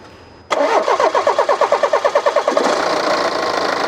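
A BMW G30 520d diesel engine starting: about two seconds of rhythmic cranking pulses, then the engine catches and settles into a steady, close idle.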